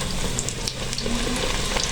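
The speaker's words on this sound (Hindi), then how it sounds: "इसी तरह हम दूसरा नान भी फ्राई कर लेंगे" A besan naan fries in hot oil with a steady, bubbling sizzle. Faint pops and crackles rise over the sizzle, close by, and no one speaks.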